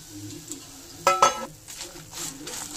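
Ingredients for a Mangalore-style mango dish are stirred in a hot pan, with a soft sizzle, metal spoon scrapes and a couple of sharp clinks against the pan.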